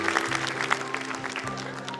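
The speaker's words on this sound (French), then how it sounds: "tandis que la famille applaudit" A family applauds in a 1981 French television studio show, producing a dense, steady clatter of clapping from a small crowd that continues throughout.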